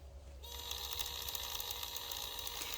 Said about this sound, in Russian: Вот это трещотка.